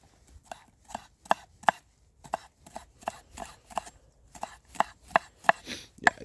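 A camp knife chops food on a board outdoors in a garden, a steady run of about fifteen crisp, close knocks spaced roughly half a second apart, with no talking.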